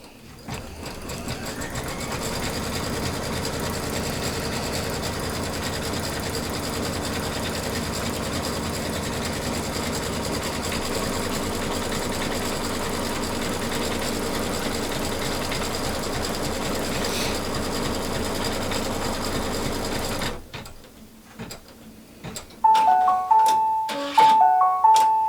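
An embroidery sewing machine stitches a fabric basket piece, a steady rapid mechanical whirring and clatter for about twenty seconds, then stopping, followed by a few short beeps and clicks.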